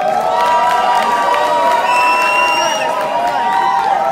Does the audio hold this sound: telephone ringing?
no